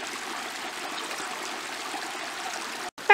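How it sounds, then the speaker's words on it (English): A shallow stream trickles and burbles steadily nearby at a trail crossing, a continuous soft rush of water, ending with a brief cut and a faint click. "I'm going to get ready to ford the stream"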